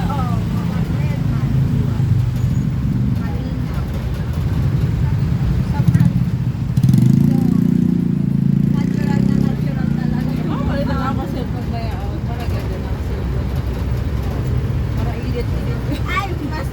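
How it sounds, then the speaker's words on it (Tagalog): Road traffic near Market Market in Taguig, a continuous rumble of engines and passing vehicles with a louder surge partway through, while people chat nearby over it. "habang nag-aantay kami ng traffic"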